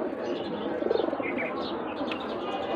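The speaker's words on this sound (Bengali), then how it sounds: "তো দেখেন আমার দুটা কবুতর" Two pet pigeons coo softly at close range, with faint chirps and soft rustling and no voices.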